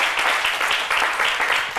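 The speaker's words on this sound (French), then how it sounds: "On applaudit très fort pour le doyen Bienvenu Neba." An audience applauding loudly on a French television show, a dense, even roar of many hands clapping that holds steady throughout, heard fairly close.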